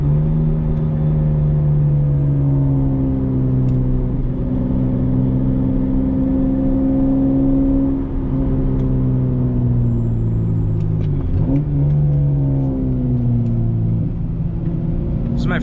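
A Toyota Supra converted from automatic to manual drives a back road, its engine humming and rising in pitch through gear changes, steady and close, with a person talking over it throughout.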